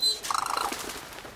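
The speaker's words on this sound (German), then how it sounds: "Ein Vogel." A bird calls in the video game Brothers, a short, fairly faint chirping flutter heard alone against quiet background.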